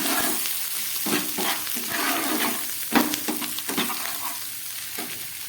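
Spices, turmeric, chili powder and salt frying into a thin fish curry base in a pan, a loud close sizzle broken by repeated scraping stirs in an uneven rhythm.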